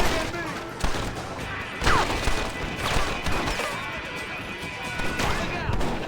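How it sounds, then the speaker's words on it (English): Sporadic gunshots and crashes ring out in a Red Dead Redemption shootout, mixed under loud shouting voices. "Stop shooting at me!"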